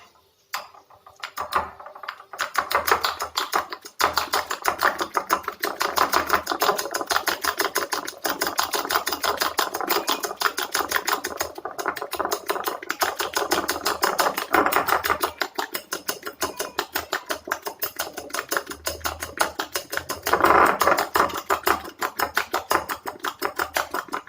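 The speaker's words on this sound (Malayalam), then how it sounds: "ഇനി നന്നായിട്ട് അതൊന്ന് മിക്സ് ചെയ്തെടുക്കാം." Eggs are beaten in a bowl for a Thattukada-style omelette, a rapid, continuous clatter of utensil against dish that runs on steadily for over twenty seconds with no talking.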